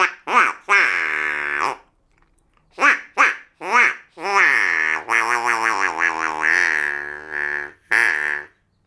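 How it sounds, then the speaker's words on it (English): An Acme duck call blown by mouth gives a string of loud, close quacks: several short bursts, a pause, then more bursts and a longer wavering run of quacks ending in a final short one. "That's right, it's a duck call"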